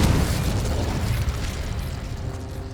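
A Confringo spell blast in the video game Hogwarts Legacy: a loud burst at the start, then a rumbling, crackling decay that fades slowly over a few seconds, with no voices.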